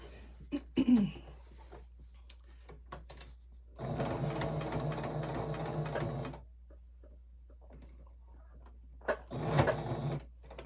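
A sewing machine quilts a star table topper in one steady loud burst of stitching lasting a couple of seconds, with short quieter bursts of machine noise and handling before and after.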